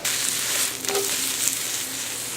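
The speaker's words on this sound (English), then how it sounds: "Add in our sesame oil, our shiitakes, and we're just going to saute the shiitakes for about 3 minutes" Shiitake mushrooms sauté in sesame oil in a hot wok, giving a steady, close sizzle with a brief stir or clatter partway through.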